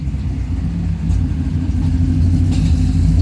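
A 2012 Mustang GT V8 with Cobra Jet intake, on pump gas, idles with a loping cam rumble, loud and close, its uneven beat pulsing steadily with no voices.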